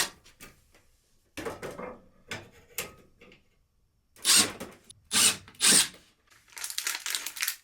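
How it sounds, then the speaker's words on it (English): Several short bursts of a power drill whirring while drilling mounting holes for a wall-mounted tool organizer, with pauses between, growing louder in the second half; no talking. "I actually like to drill smaller and then go bigger."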